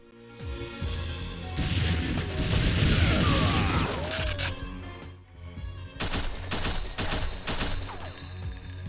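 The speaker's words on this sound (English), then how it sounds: "Here's what the assault rifle sounds like across each version." Rapid automatic assault rifle fire in TimeSplitters 2 Homefront, loud bursts of rattling shots with mechanical clatter, pausing briefly before another volley.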